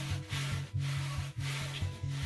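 A hand rubs firmly over a diamond painting canvas pressed onto a glued frame, giving a steady, close dry friction with rhythmic strokes and short pauses, no talking.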